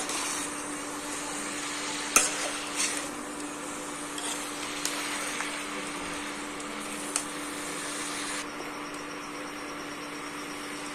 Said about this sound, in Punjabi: ਮਸਾਲਿਆਂ ਨੂੰ ਚੰਗੀ ਤਰ੍ਹਾਂ ਮਿਕਸ ਕਰ ਲੈਣਾ